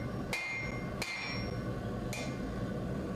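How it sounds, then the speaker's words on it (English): Three sharp, ringing hammer blows strike a steel blade on an anvil during forging, spaced irregularly over a steady background hum, each leaving a brief metallic ring. "I'm just flipping it over and forging out that area, the other end."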